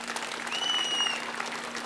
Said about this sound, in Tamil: அந்த வேன் டிரைவருக்கு ஒரு கைத்தட்டு கொடுக்க வேண்டாமா?